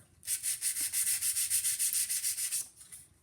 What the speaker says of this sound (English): If you don't have a file, you can use a piece of 320 sandpaper the same way